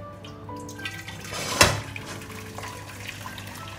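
Hot water poured into a pan for cooking Thai sticky rice, a short splashing gush that peaks sharply partway through and then settles, faint and close, with no talk.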